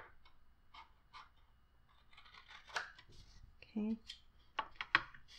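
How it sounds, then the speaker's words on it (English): Scissors cutting paper along a score mark while making a handmade gift bag, a few short crisp snips and rustles, close and quiet, with a person talking briefly. "I'm going to go ahead and angle that and give that a cut."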